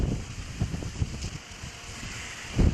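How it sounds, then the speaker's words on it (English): Strong tropical storm wind in Southern Maryland, buffeting gusts that thump and rumble against the microphone in uneven surges, loudest at the end, with a steady hiss of wind behind them. "How strong do you think those wind gusts are at this point?"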